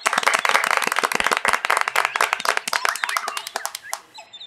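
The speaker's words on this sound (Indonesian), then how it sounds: "Mana tepuk tangannya?" Animated audience clapping at an Indonesian Independence Day village contest, a dense burst of sharp, close hand claps that thins out toward the end.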